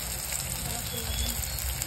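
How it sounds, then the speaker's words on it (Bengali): Ground ginger, garlic and chili paste with cumin frying in a pan, a steady dense sizzle and crackle filling the short stretch at close range, with a voice faintly underneath. "কিন্তু এখন এই যে এইগুলি একটু কষাই নেব।"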